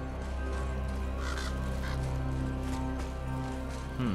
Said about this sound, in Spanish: Por aquí oigo un cuervo.